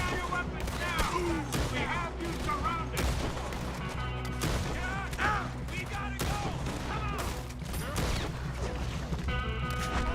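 Rapid gunfire crackles in a shootout in Red Dead Redemption 2, with repeated shots and bursts over game music and a character's voice, while a player talks throughout.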